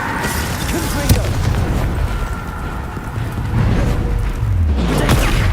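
A Confringo spell explosion in the Hogwarts Legacy video game, with booming blasts and fiery bursts rumbling over loud battle effects and continuous game sound.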